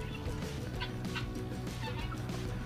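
Chickens, including Brahmas and a rooster, in a wooden coop, clucking and gobbling in repeated bursts at a moderate distance.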